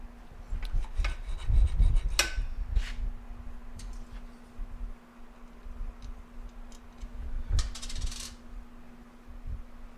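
Metal clinks, light scrapes and ticks as a part is slid into place on a Suzuki TS250 motorcycle and a bolt is pushed through, close by, over a low steady hum.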